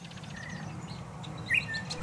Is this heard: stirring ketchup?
no